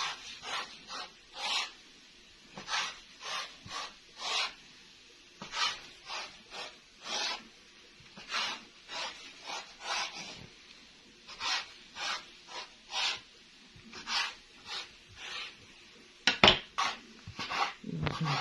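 A knife cuts through rolled dough for galushki on a wooden board in a quick, rhythmic run of short rasping strokes, close and fairly quiet, with no talk.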